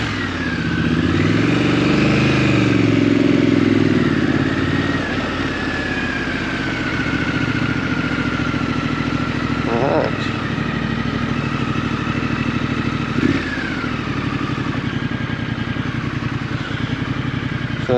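A Triumph Scrambler twin-cylinder motorcycle engine while riding, droning steadily and close up, with the pitch rising and falling as the revs change through the gears.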